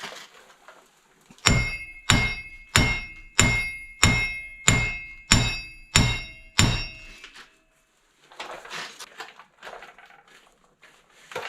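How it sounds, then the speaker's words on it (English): Hammer blows strike a worn, loose front wheel bearing on a 2005 Silverado, nine sharp metallic hits in an even rhythm, loud and close, followed by fainter clattering afterwards. "But we'll keep hammering on her."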